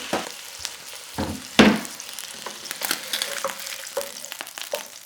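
A steak chimichurri panini sizzles in a hot pan, with steady frying hiss broken by sharp clatters and scrapes of cooking, close and moderately loud.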